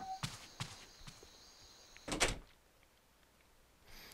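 A few light footsteps are followed by a solid apartment door opening with a short thump in a video game, then quiet, and a faint noise at the very end.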